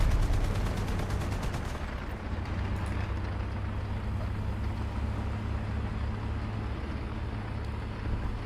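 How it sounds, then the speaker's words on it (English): A heavy bomb blast in the War Thunder tank game rumbles low and long, with rapid gunfire rattling in the first couple of seconds before a sustained engine-like drone and deep rolling boom carry on, loud and close, with no talk. "That looked like a bomb, and yes,"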